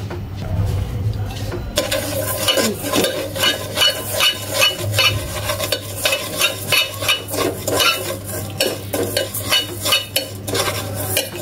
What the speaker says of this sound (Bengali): একটু ক্যারামেল তৈরি করে নিব।